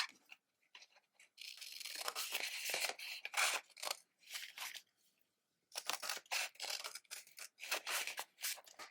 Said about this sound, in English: And then I'm just going to cut around the top.